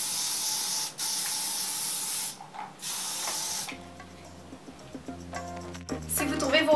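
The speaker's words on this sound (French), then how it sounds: "Une fois que vous avez terminé, vous ajoutez du spray net." Hairspray is sprayed onto freshly curled hair in several loud, close hissing bursts with brief pauses between them, followed by softer clicks and faint voice-like tones near the end.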